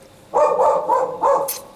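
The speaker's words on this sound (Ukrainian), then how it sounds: "От дурна собака. Сусідський коко." A neighbour's dog barks in three close, fairly loud bursts, each a rough mid-pitched woof, ending with a brief higher yip.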